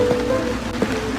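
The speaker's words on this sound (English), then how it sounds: "Oh yeah, it's raining." Rain in a Sherlock Holmes video game falls as a steady, dense hiss with a low hum beneath it. Two faint thuds stand out above it.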